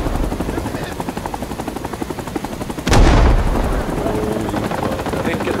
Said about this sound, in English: get in the helicopter